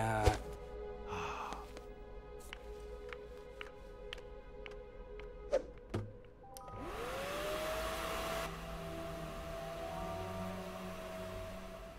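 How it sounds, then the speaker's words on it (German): A vacuum cleaner whirs up in the LEGO Marvel Super Heroes 2 video game, joining after a few game chimes and clicks and then holding a steady, fairly loud hum to the end. "Ja, Staubsaugen."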